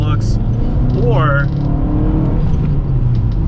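Fiat Coupé 16v turbo engine, a Pininfarina-styled Italian coupe, rumbling and revving steadily at close range, a loud continuous drone with a brief rising whine, under someone talking.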